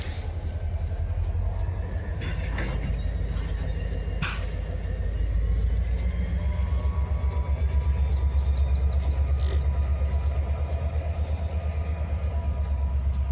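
A train rolls past an outdoor vegetable garden in a steady, loud, continuous rumble that swells toward the end, with a high whining tone sliding upward above it and a few brief clanks along the way.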